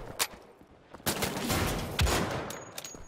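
Gunfire from shooting Nazis in the video game Wolfenstein: The Old Blood: sharp bursts of rapid shots and a heavy blast, irregular and punchy, with brief lulls between volleys.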